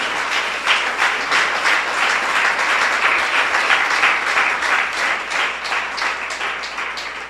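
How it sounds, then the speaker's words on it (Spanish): A church congregation applauding, dense sustained clapping that fills the room steadily and evenly, loud and close, with no voices over it. "Dan un aplauso, Señor, por la vida de Teresita."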